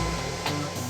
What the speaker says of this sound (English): Here is the vacuum cleaner.